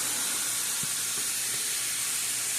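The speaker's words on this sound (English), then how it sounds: "So we're just going to let these sear until they're nice and brown." Turkey wings searing in a skillet give a steady, close hiss and sizzle, alone with no talk.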